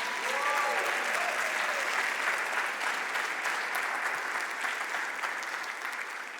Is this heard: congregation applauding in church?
yes